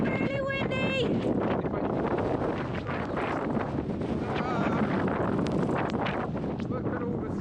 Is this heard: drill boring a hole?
no